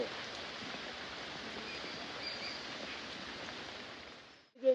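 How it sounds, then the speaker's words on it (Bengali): Rain falling steadily on the trees of a Khirsa and Himsagar mango orchard, an even, dense hiss of drops that holds throughout before a sudden brief knock at the very end. "বৃষ্টি কিন্তু আস্তে আস্তে জোরে হচ্ছে"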